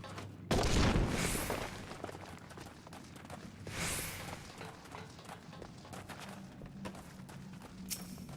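A loud blast from a video game weapon loaded with fire sand erupts after the trigger is pulled, followed by a second softer boom and scattered rumbling effects amid game noise.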